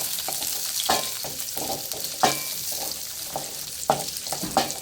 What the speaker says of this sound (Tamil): உங்களுக்கு தேவையான நட்ஸ் எடுத்து கீழே வறுத்துக்கோங்க.